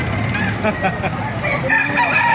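Several chickens cluck and a rooster crows nearby at a chicken market in Baliuag, Bulacan, over a noisy outdoor background, with overlapping bird calls filling the short stretch.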